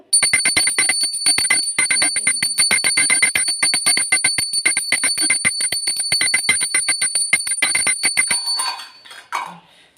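A handheld ritual bell rung by a child during Saraswati puja, struck in a fast, steady run of bright metallic rings that carries on for about eight seconds before stopping, with brief rustling afterward.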